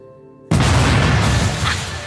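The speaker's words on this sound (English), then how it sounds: "Explosion detected in Sector 3, ma'am." A sudden loud explosion effect from a Doctor Who audio drama bursts in after near silence, with a deep booming rumble that lingers and slowly fades.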